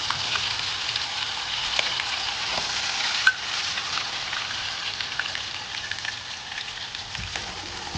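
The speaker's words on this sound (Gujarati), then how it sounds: "એમાં લાલ મરચું ઉમેરશું, ઉમેરશું જીરું ઉમેરશું, ચપટી હિંગ નાખશું, આદુ મરચાંની પેસ્ટ નાખશું," Red chili, cumin, a pinch of asafoetida and ginger-chili paste sizzle steadily in hot oil for a Kathiawadi dhokli curry, a continuous close frying hiss with small pops and no voices.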